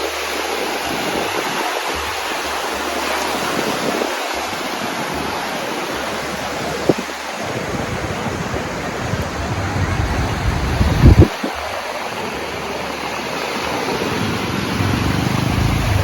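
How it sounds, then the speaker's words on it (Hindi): Sea waves wash continuously at Vagator beach in Goa, a broad steady roar with a few louder surges, mixed with wind buffeting the microphone. "वेगेटर बीच पे मैं आया था"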